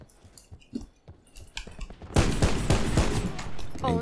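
Gunfire in Black Ops 4 erupts midway into a dense rapid burst of loud shots after a stretch of quiet clicks and faint sounds, continuing to the end.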